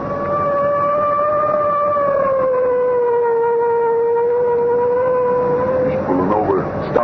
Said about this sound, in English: I guess it's time to sound the siren.